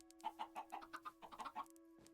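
Minecraft chickens cluck in a quick run of short, clipped calls with a steady tone humming underneath. The clucks are close and moderately loud, with no speech, and a faint rustle follows at the end.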